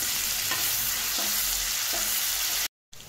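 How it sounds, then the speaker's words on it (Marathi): Ginger garlic paste frying in oil sizzles loudly and steadily, with a few soft spatula scrapes stirring it through, ending in a sudden brief cut of silence before the sizzle resumes. "यानंतर लगेचच आपण यामध्ये अद्रक लसूणची 1 चम्मच पेस्ट ॲड करायची आहे आणि ती व्यवस्थित तेलामध्ये तळून घ्यायची आहे।"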